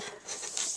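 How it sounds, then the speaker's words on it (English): A craft knife trims material for a handmade hanging basket in a short, close scraping rasp that swells and fades over less than a second, with no voices. "So where's my X-Acto knife? There it is. So let's go ahead and trim."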